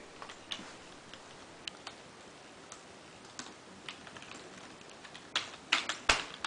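A toddler taps at a computer keyboard with scattered, irregular clicks, sparse at first and then bunching into a quicker, louder flurry of keystrokes near the end, close by with no talking.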